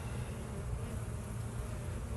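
Honeybees buzz on a brood frame pulled during a hive inspection, a continuous close, low droning hum from many bees without any talk.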